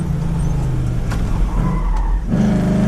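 A Chevrolet C10 truck drifts around a wet autocross course, engine droning loud and close while tires skid and slide, the engine note shifting and rising near the end.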